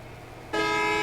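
A bus horn in a video game suddenly sounds halfway through and holds as a steady, bright, synthetic-sounding honk over a low background rumble.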